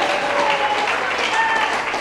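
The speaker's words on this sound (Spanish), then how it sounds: "Aplauda a Dios, aplauda a Dios." A church congregation applauds in a dense, steady wash of clapping that stays loud and even for a short stretch, with voices blended into it.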